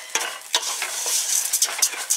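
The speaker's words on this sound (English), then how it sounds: "you want to keep this moving, and you don't want it to sit on the bottom for any length of time" Rice and orzo toast in a hot pan while a spoon stirs them steadily, producing a continuous dry sizzle broken by frequent scraping strokes, close and fairly loud, with no talking.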